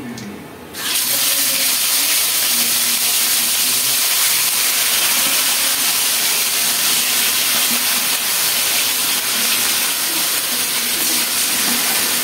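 Whole cumin seeds and a bay leaf hit hot oil with a sudden burst after a brief quiet start, then a loud, steady, close sizzling hiss continues unbroken without any talk.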